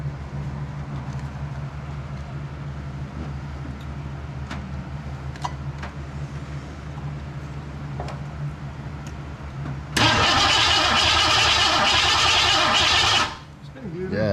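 Starter cranking a stalled engine fed by a second boosted battery, a loud steady whirring spin that runs about three seconds close by before cutting off, after a stretch of low idle rumble and faint clicks.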